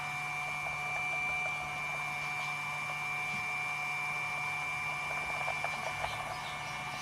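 A 3-phase magnetic motor spins at 4 hertz, producing a steady mechanical hum with fixed tonal whine lines and faint rhythmic ticks as magnets pass, constant and close throughout.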